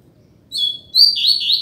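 A caged coleiro, or double-collared seedeater, gives short high chirps followed by a quick run of clipped, bright song notes, close and fairly loud over a quiet background.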